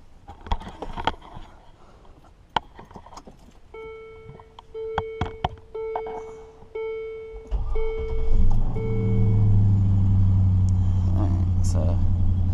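Land Rover Discovery being switched on, with dashboard warning beeps and clicks first, then the engine starting and settling into a steady low idle rumble, with talk over it.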